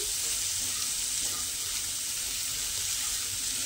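Bottle gourd peel curry fries in a pan as it is stirred, a steady close hiss and sizzle filling the brief moment without any voice.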